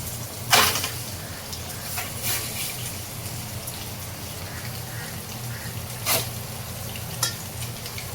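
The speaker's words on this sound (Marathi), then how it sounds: "फ्राय करून घ्यायची." Food frying in oil in a pan for biryani, a steady soft sizzle underneath with a few sharp clatters of stirring and utensil knocks spaced through, close and moderately quiet.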